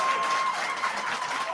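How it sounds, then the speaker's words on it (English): Audience applause at an atheist versus Christian debate, a steady dense wash of many hands clapping that holds evenly for the whole stretch with no voices over it. "Let's hear some real applause."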